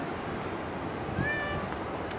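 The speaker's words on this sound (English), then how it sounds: "It's neighbor's cat." A neighbor's cat gives a single short, rising meow close by, heard over steady outdoor background noise around a wind-damaged yard.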